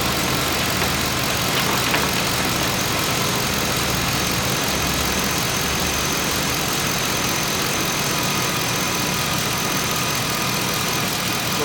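A GM truck engine idles steadily with the ignition on, a continuous even hum and hiss throughout, close and unbroken, with no talking.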